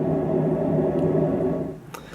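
White noise run through an ER-301 ladder filter makes a steady, resonant hiss with a tonal, humming body, holding level before thinning and dropping away near the end.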